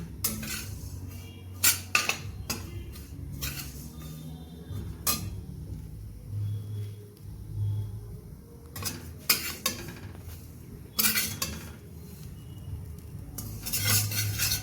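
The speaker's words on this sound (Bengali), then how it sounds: "তিল ভাজা আর বাদাম ভাজাটা হয়ে গেছে।" Sesame seeds and peanuts frying in a pan, stirred with a utensil: intermittent scraping and clinking strokes of metal against the pan over a faint, steady background, no talk.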